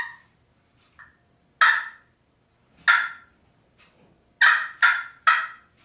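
Wooden turkey box call worked by hand to imitate a turkey, giving short raspy yelps and cutts in irregular bursts with quiet gaps, close and crisp, no talking.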